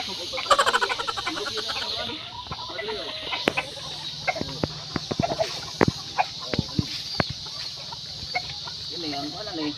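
Gamecock roosters clucking and calling amid a busy outdoor scene, with sharp clicks and taps and people talking nearby.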